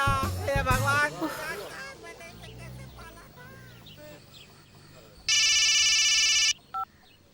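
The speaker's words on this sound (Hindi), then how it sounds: "झुमरू का फोन है, कुत्ते वाला, तुमसे मिलना चाहता है।" An electronic telephone ring sounds as one loud, shrill burst lasting about a second, then a brief blip. Before it, voices talk over music in a dubbed film scene.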